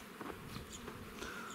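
Buckfast honey bees at an apiary hum in a continuous, faint, close buzz that rises and falls gently without pause.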